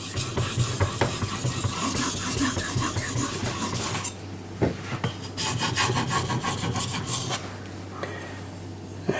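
A carbon steel blade is sharpened on a King whetstone, making steady rhythmic rubbing and rasping strokes close up. The scraping continues with no talk.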